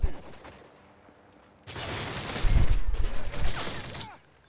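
Rapid automatic gunfire in Call of Duty Modern Warfare 3 team deathmatch play, with dense bursts of shots that follow a quieter start and then stop.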